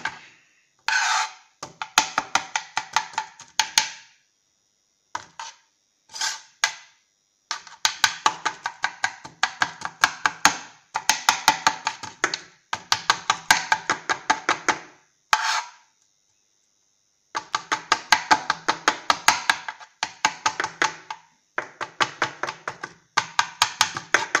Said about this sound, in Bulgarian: И нарязвате ягодата.